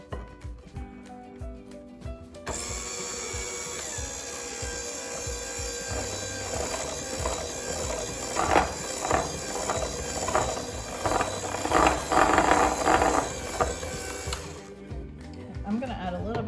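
An electric mixer whirs steadily as cocoa powder is blended into marble bundt cake batter, its motor tone starting abruptly and running with rhythmic churning pulses before cutting off near the end.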